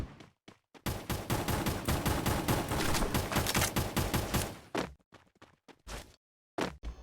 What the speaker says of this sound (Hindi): यहाँ पर मुझे आगे से गन फायर की आवाज़ आती है